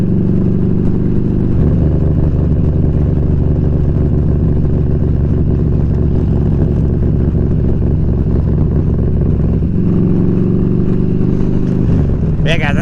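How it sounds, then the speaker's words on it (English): A motorcycle engine that runs poorly below about 2,800 RPM idles loudly and continuously nearby, with a low, uneven droning throb. The pitch shifts slightly a couple of times. "Is my bike is running funny and I don't like it."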